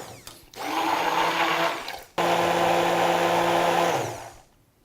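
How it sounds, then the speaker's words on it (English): Hand blender whirring in a pan of orange fig panna cotta mixture, two loud close bursts with a short pause between, the motor pitch holding steady before winding down. "now I'm going to use a hand blender, also known as an immersion blender, and just blend this until it's smooth"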